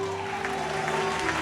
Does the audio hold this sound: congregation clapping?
yes